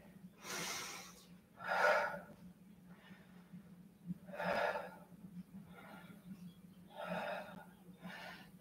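Audible breaths during a morning yoga flow, several deep inhales and exhales through the nose spaced a second or two apart, close and fairly faint over a low steady hum.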